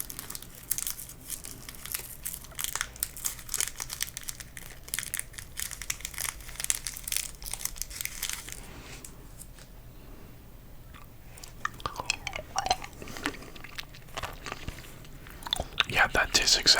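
Watermelon-flavored candy is unwrapped and chewed close to the mic, with bursts of crinkling, crunching and wet chewing that thin out midway and return louder near the end, along with soft whispering.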